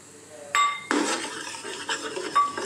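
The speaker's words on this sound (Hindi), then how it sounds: "ये मैंने मसाला बनाया हुआ था" Homemade masala paste goes into a metal cooking pot for a paya dish, making a few clanks and scraping clinks of a utensil against the pot, close and fairly loud, with no talk.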